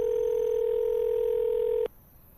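A steady telephone dial tone on a phone call, a clean continuous hum that holds for almost two seconds and then cuts off abruptly, leaving quiet background.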